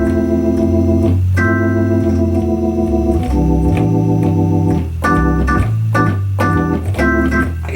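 A ii-V-I chord progression is played on a keyboard with a walking chromatic bass line under sustained chords. The chords change every second or two in a continuous, even rhythm, and no one speaks.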